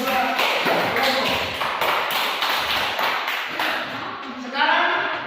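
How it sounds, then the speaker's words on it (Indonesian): Students in a classroom applaud two student groups with a burst of hand clapping and tapping that carries through, with voices mixed in. "mari kita beri aplaus untuk kedua kelompok"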